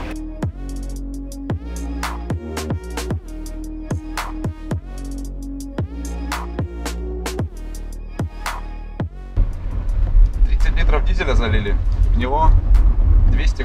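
A BMW E34 engine rumbles loudly as the car accelerates while driving, entering after a stretch of rhythmic music, with voices talking over the engine noise.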